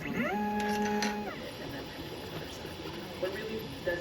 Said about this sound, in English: a thorough demonstration on how to use the Ditto Pro 3D printer